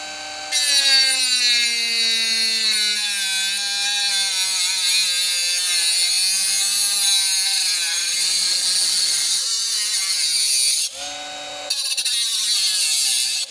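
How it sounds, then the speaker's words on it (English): Bosch GWS 12V-76 brushless cordless 76mm angle grinder cutting through aluminum, a loud sustained high-pitched whine with shifting pitch, briefly dropping off near the end before resuming. "I know for a fact that aluminum is quite annoying to cut with grinders"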